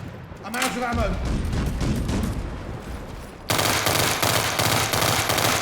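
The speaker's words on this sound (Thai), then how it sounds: "ผมยิงได้เรื่อย ๆกระสุนเยอะ" Rapid gunfire from a pistol in the World War 3 video game, dense bursts of shots throughout, growing louder and more continuous in the second half, with a voice talking over the first part.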